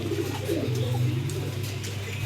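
A pair of Copper Black Angel pigeons at a pigeon farm coo softly with low, rolling, throaty tones over a steady background hum.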